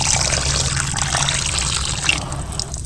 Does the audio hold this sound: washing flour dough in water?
yes